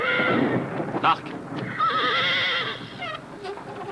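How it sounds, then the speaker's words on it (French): Horses neigh and whinny in long, wavering calls, with hooves clopping beneath and some voices mixed in. "Va t'occuper des chevaux."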